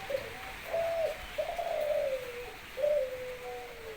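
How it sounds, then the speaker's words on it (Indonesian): A perkutut, pelung or derkuku dove coos in soft, drawn-out calls, a few smooth phrases with gently falling tails over a quiet background hiss. "lama ini sambil mendengarkan burung."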